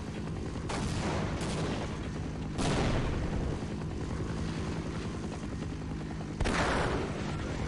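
A VTOL aircraft in Half-Life: Decay gives off a loud, steady rotor roar throughout, with a few sharp bangs and bursts of gunfire cutting through it.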